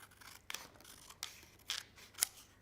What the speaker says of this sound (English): then obviously switch to your scissors